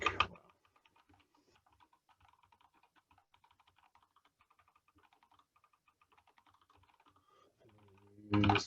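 A computer keyboard clatters with quick, irregular keystrokes, light and close, running steadily for several seconds with short pauses. A louder burst of noise lands at the very start and end.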